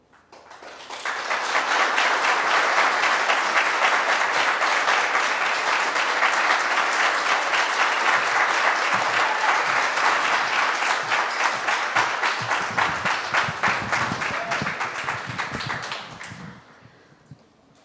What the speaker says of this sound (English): Big round of applause for Jordan, Giovanni, Scott, Katie, Nia, Luke.